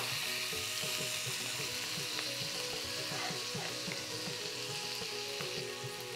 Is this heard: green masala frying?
yes